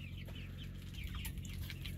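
Chickens cluck softly in short, scattered calls over a low steady hum, with no one speaking.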